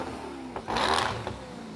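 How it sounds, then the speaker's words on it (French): A Swedish twin-supercharged 4.7-litre V8 supercar revs briefly, one rising roar swelling and fading over roughly a second, heard from a moderate distance with no talk. "Suédoise, moteur V8 bicompresseur, 4 litres 7, 806 chevaux à 7000 tours minute"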